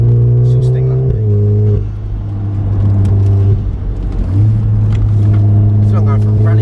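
Mapped 380bhp Volkswagen Golf R accelerating hard, a loud, close engine drone that climbs in pitch through the gears with brief dips at each shift, heard from inside the car.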